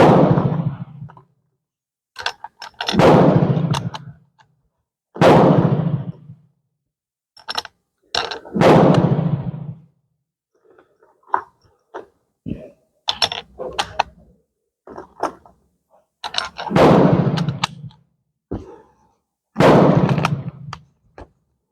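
A Portuguese Vergueiro bolt-action rifle fires a string of loud, booming shots with long echoing tails, spaced a few seconds apart, with quieter mechanical clicks of the bolt being worked between them.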